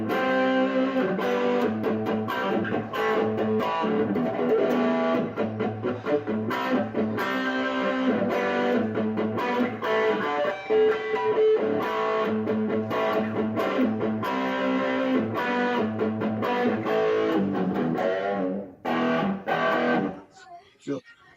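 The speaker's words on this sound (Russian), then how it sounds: "Включай дисторшн." A Chinese electric guitar played through a distortion pedal with the knobs turned fully up rings out in thick, sustained overdriven chords for about eighteen seconds before cutting off abruptly.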